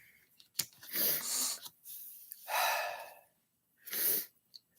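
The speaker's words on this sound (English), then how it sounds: "Oh, and a sneeze." A person sneezes indoors after eating, several close, sharp bursts with breathy intakes between them, spread over a few seconds with no talking.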